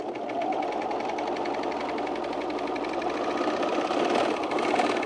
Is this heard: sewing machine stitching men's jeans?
yes